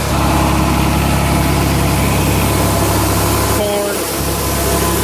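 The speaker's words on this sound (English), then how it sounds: "an old John Deere 4020 that runs the auger" An old John Deere 4020 tractor from about 1967 or 1968 runs a grain auger during corn harvest, its engine giving a loud steady idling drone with mechanical whine, briefly dipping near the end, while someone talks over it.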